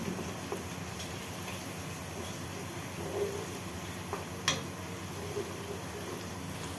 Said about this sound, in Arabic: خلاص هحمر كده البصل وارجع لكم تاني